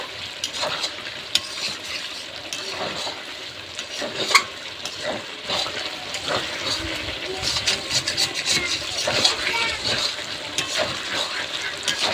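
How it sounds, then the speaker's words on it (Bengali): Curry sautéing in hot oil in a pan, a steady close crackling sizzle with repeated scraping stir strokes and occasional louder clinks throughout. "এবারে আমি কষিয়ে নেব"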